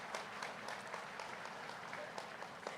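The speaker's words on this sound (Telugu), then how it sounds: "ఒక్కసారి పత్రిజీ గారికి ఒక్కసారి మనం గట్టిగా చప్పట్లు కొడదామండి" An audience claps together at a World Meditation Day gathering, dense and steady applause with scattered sharper claps, fairly faint and distant, with a voice faintly under it.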